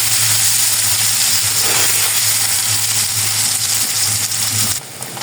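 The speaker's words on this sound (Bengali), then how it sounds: "এই যে পনিরগুলো ভাজা হয়ে গেছে" Paneer frying in hot oil in a pan, giving a loud, continuous sizzle and hiss throughout that drops off slightly at the very end.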